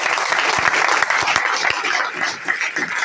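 Loud applause from an audience at a meeting, welcoming an honored guest: dense, continuous clapping that fills the whole stretch, with a few low thumps beneath.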